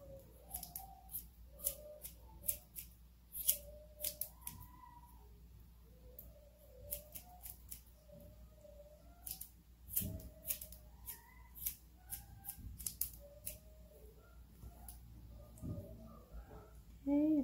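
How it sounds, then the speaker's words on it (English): Scissors snip a dog's hair at the bottom of its foot, a long run of quiet, sharp snips that come irregularly, close up, with some soft voices in between. "Let's cut a little bit of your hair"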